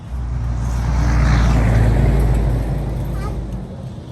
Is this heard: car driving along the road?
yes